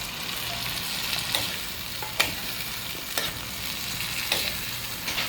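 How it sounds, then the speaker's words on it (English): Saltfish fries in a pan with tomatoes and seasoning, a steady close sizzle broken by occasional sharp scrapes and taps of a spoon as it is stirred, with no talking. "I will leave this here to fry like for about 5 minutes"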